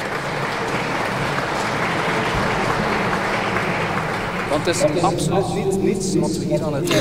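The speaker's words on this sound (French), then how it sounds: "vous pouvez également vous applaudir pour ce qui a été réalisé" Applause from an assembly audience at a Rotary gathering, continuous and fairly full, with a voice speaking over it and the clapping thinning in the final seconds.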